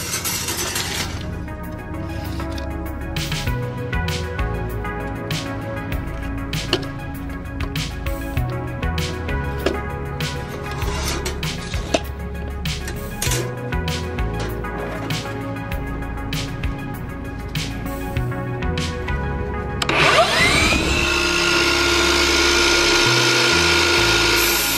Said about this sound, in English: let's now cut the aluminum powder coated Finec trim with a compound miter saw and a metal blade